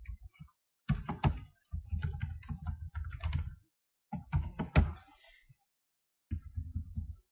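Code is typed on a computer keyboard in bursts of quick, close clicky keystrokes, separated by brief silent pauses.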